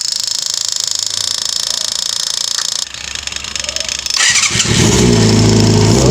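Restored Yamaha FZR 250 motorcycle engine cranking and catching for its first start, with a steady whine giving way to a loud, rising engine roar in the last two seconds.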